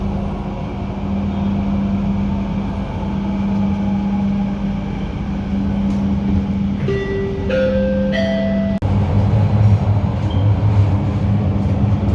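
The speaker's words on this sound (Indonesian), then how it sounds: "Kereta cepat Jakarta Bandung." Jakarta-Bandung high-speed train running, a steady loud interior rumble and hum with tonal whine and a brief three-note chime partway through, no talking.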